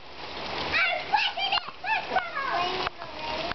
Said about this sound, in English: You're playing in the rain. Oh, my goodness. Look at that puddle.